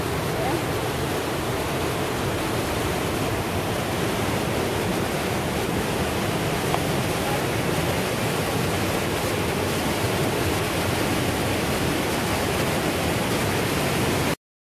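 A waterfall at Doi Inthanon roars steadily and loudly, a constant broadband rush of falling water that fills the whole stretch without a break.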